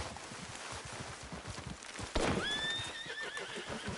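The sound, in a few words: horse neighing and clip-clopping in Red Dead Redemption 2 video game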